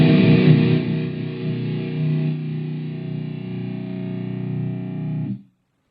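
Distorted electric guitar in drop B tuning plays a heavy, low riff, loud and close, sustaining a thick chord that rings out for about five seconds before cutting off.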